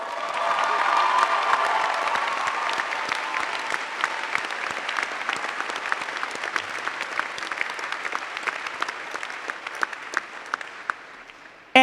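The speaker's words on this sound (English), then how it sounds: "thank yourselves with a giant round of applause." Graduating class at a USF commencement ceremony giving a long, loud, sustained round of applause, a dense wash of clapping from a large crowd that holds steady for over ten seconds.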